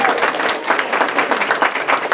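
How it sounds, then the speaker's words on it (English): Audience applause for the mayor of Crossville at a Cumberland County Playhouse season announcement, a dense, loud, steady clapping from a full crowd. "Give him a round of applause."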